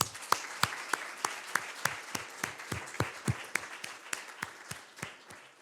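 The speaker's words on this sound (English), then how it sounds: "So let's give them a round of applause." Small audience at a women's network conference in New York gives a round of applause, a sparse run of distinct individual claps in an uneven rhythm, fairly quiet and slightly distant.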